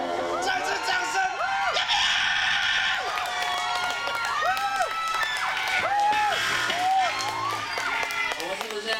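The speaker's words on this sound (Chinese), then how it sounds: "再次掌声。" A concert crowd at a live music venue claps, cheers and shouts for about nine seconds. Raised voices and high whoops rise over a dense, steady wash of applause.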